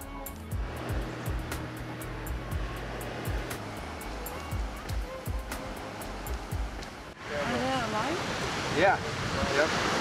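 Ocean waves wash onto a Mendocino Coast beach, first as a faint background roar under people talking, then swelling into a louder, fuller rush of surf in the last few seconds.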